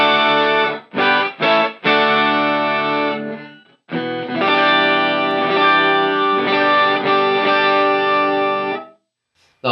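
Electric guitar through a Digitech Whammy DT set to an octave above plus the dry signal: a few short chords, then long sustained distorted chords with a shimmering doubled high octave, loud and alone.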